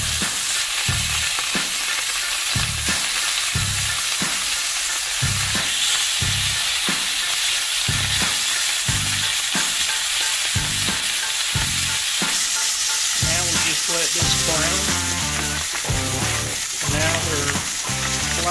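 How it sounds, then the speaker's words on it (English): Catfish sizzles loudly in a very hot pan with oil and butter, a constant crackling hiss with rhythmic stirring or scraping pulses throughout, heard close with no talk. "I got a quarter cup oil in a screeching hot pan and a knob of butter"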